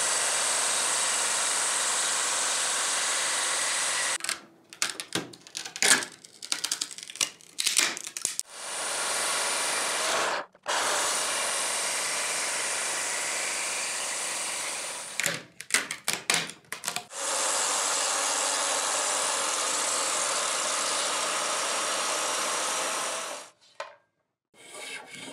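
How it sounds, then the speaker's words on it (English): A portable bandsaw ripping an oak joist into 10mm strips runs in long continuous cutting passes, a loud, steady rasping whine broken by short pauses and stuttering bits of handling, with no voices. "I'm well aware that a bandsaw would do this job nicely, but we don't have one, so I use the portable bandsaw"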